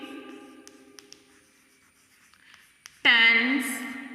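A pen scratches on paper in a classroom for about three seconds, faint with soft irregular strokes, then a person starts talking.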